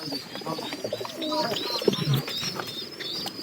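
Pigeons coo softly in a small coop among other faint chirps, low rounded calls repeating quietly at close range.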